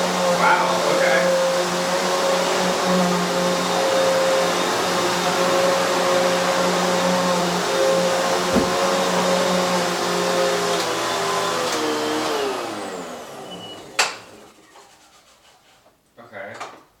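A Hoover HushTone 15-inch commercial upright vacuum cleaner runs with a loud, steady motor whine that holds for about twelve seconds, then winds down and stops, with a couple of knocks at the end.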